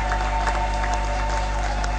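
An audience at the Fondation Grand Kasai conclave applauds a man being introduced, a steady wash of many hands clapping under a loud, constant electrical hum from the sound system.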